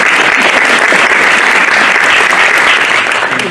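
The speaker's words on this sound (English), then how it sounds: "You guys can applaud if you like." An audience at a school board of education meeting claps in a sustained, dense round of applause, loud and close, steady for the full stretch with no speech over it.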